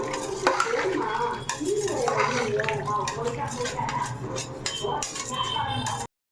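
A pot of water for biryani rice bubbles at a steady boil, with a voice talking over it and a few clinks of utensils nearby.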